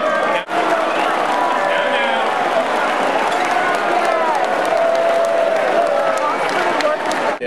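A crowd at the UFT 50th birthday celebration applauds and cheers for New York City Mayor Michael Bloomberg in a continuous, roomy wash of clapping, with voices mixed in.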